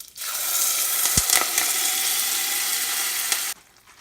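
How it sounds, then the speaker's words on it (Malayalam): Ground buttermilk is poured into a hot mustard-seed tempering for a gooseberry buttermilk curry, setting off a loud, steady sizzle with a brief clink. The sizzle runs for a few seconds and then cuts off abruptly. "മോര് അതിനകത്തേക്ക് ഒഴിച്ചു കൊടുക്കാം."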